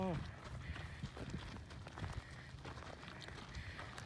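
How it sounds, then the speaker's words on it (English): Cows stampede across a road in San Francisco, hooves thudding in a steady busy patter close by, with people talking over the commotion. "Stampede."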